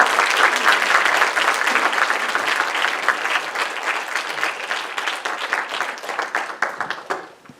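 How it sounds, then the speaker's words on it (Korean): A lecture-hall audience applauds loudly as speakers come on stage for a talk concert at a university campus, a thick burst of clapping that gradually thins into separate claps toward the end. "큰 박수로 환영해 주시면 감사하겠습니다."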